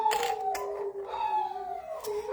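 Dogs howling together indoors, a sustained wavering tonal wail with shifting pitch, moderately loud and close, with no talking over it.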